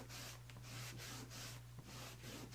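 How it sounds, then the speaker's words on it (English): A rag rubs stain into wood in soft, rhythmic strokes, a faint scratchy swishing that repeats every half second or so over a low steady hum, with no voices. "that is simply using my rag to rub in that stain even more to give it that aged look"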